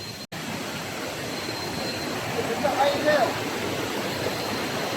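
A mountain river flows steadily on a hiking trail up Gunung Nuang, giving a continuous broadband rush that stays fairly close and constant, with people talking faintly over it.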